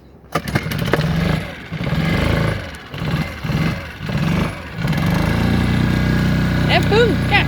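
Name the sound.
repaired boat engine running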